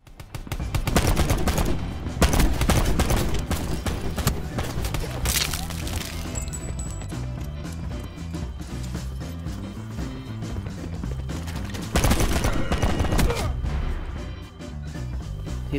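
Gunfire in the shooter game Call of Duty: Black Ops 4, repeated loud bursts of automatic fire and impacts over sustained battle noise, with intense salvos near the start and again late, players' voices faint underneath.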